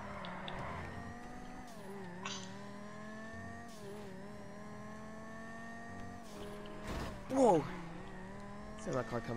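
A car driving in the video game GTA 5, a steady engine drone with shifting pitch as it accelerates and slows, ending in a brief screech, with people talking over it.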